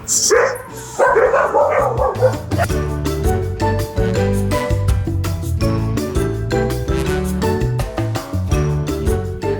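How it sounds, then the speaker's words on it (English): Dogs bark over loud, steady music that fills the whole stretch on Holbox island, Mexico; the barking is mostly buried in the mix. "All the other dogs are going nuts and Princess is just chilling now."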